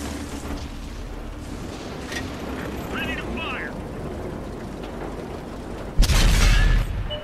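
The 120mm cannon of an M103 tank in World of Tanks fires once near the end as a loud, sharp boom, following several seconds of steady engine rumble and faint battle noise.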